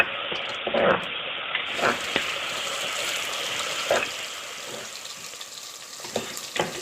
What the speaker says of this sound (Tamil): நல்லா இது பொரிஞ்சோன்னு நம்ம வெங்காயம் போட்டுக்கலாம்